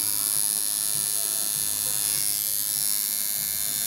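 A tattoo machine gives a continuous electric buzz close by at moderate level, unbroken for several seconds, in a tattoo studio with a faint murmur of background voices.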